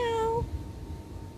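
A cat gives a single clear, close meow that rises and falls, followed by quiet room background.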